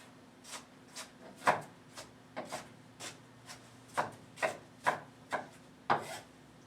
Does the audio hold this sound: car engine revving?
no